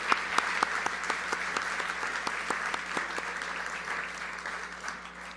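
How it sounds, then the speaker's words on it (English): Steady applause fills an awards banquet hall, many hands clapping continuously with a few sharper claps standing out, holding an even level throughout and fading slightly at the end. "How about a nice round of applause for Alexi?"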